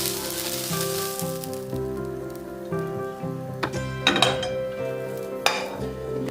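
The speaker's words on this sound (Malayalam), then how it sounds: "മീഡിയം ഫ്ലെയിമിലിട്ടിട്ടാണ് കേട്ടോ വഴറ്റുന്നത്." Onion and capsicum sautéing in a pan over a medium flame give a steady close sizzle with occasional scraping clatter of the utensil against the pan, over a faint tonal background.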